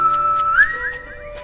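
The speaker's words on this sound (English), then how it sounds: "you're going to hear this whistle." A character's clear two-note whistle in the video game Dinkum rises and glides upward, bright and close, over a faint steady background hum with soft repeated ticks.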